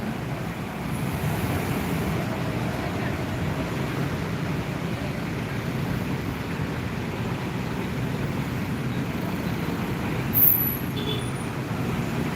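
A bus moves past on a road with a broad, steady roar of traffic. There is a brief louder swell near the end. No voices can be heard.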